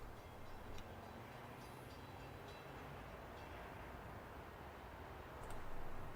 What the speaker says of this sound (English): And there's our train, wherever it is.